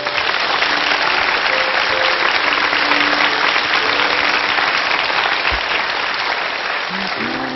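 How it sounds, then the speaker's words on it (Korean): A large lecture-hall audience claps at a talk show, a dense, loud, continuous wash of applause that holds steady for several seconds before easing slightly toward the end. "제 부모님께 박수를 한번 쳐드리고 싶어요"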